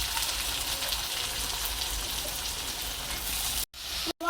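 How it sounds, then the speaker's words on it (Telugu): Eggplant pieces frying in a pan of hot oil, a steady dense sizzle with crackling sputters, loud and close and with no talk, ending in two short breaks of silence. "ఇప్పుడు వంకాయలు వేసేసుకున్నాం. టపప్ టపప్ సౌండ్ వస్తుంది చూసారా."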